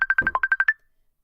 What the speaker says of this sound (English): Who is ringing and where?